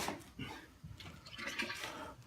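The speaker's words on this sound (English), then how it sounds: "I'm pouring this last little bit in my settling tank" Biodiesel glycerin is poured into a settling tank, a faint liquid trickle and splash that rises and falls in short irregular bursts.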